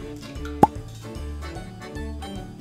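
An egg cracks into a well of flour with a single soft, close plop, set against a quiet background of steady music.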